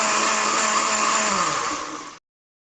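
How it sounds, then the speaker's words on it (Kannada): A mixer grinder whirs loudly, grinding dry chutney powder ingredients in a kitchen, a high steady motor whine that holds for about two seconds before winding down and stopping abruptly. "ಎಲ್ಲ ಪದಾರ್ಥಗಳನ್ನು ಮಿಕ್ಸಿ ಹಾಕಿ ಫ್ರೈ ಮಾಡಿ"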